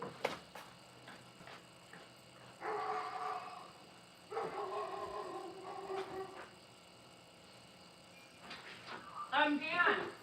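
A dog barks at neighbors who have just come home, in several loud bursts separated by quieter stretches, with people talking nearby.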